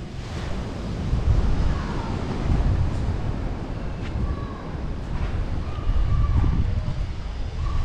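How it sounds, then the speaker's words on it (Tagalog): Ocean surf on the coast at Santa Ana, Cagayan rolls in with a steady wash, buffeted by wind noise on the microphone and swelling in gentle surges. "Yan, yun ito yung dagat dito."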